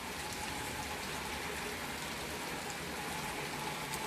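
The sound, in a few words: rain falling on a stormy day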